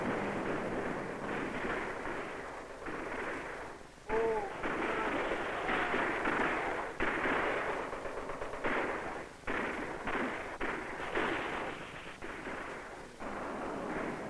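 Gunfire on an invasion beach in old archival film: a dense, continuous roar of shooting and blasts with rough bursts and brief dips, heavy with grainy soundtrack noise.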